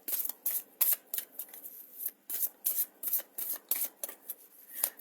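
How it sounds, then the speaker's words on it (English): A deck of oracle cards is shuffled by hand in quick bursts of riffling and sliding, a dozen or so crisp papery rustles in an uneven rhythm, close and fairly quiet with no talking. "the Divine Guidance card just flipped out as I started to shuffle"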